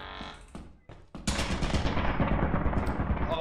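Turret gunfire in a video game: rapid, loud bursts of automatic fire starting after a couple of sharp shots and continuing densely to the end.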